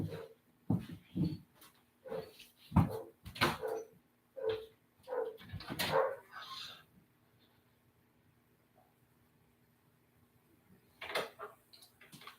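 A neighbor's dog barks outside in a quick series of sharp, fairly close barks over several seconds, goes quiet for a while, then lets out another short cluster of barks.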